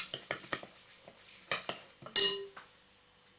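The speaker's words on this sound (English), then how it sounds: "Mix that round until they get a nice firm-like consistency." A spoon works desiccated coconut cake mixture round a bowl, giving a string of clinks, scrapes and knocks against the bowl, with a sharper clatter near the end. Close and fairly quiet, with no voices.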